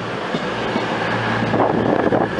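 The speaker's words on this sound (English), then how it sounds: "Arriving into platform number two, we have a cross-country service to Manchester Piccadilly." CrossCountry train arriving at a Leamington Spa platform, a loud, close rumble and wheel noise with rail clatter building slightly toward the end, with no talk.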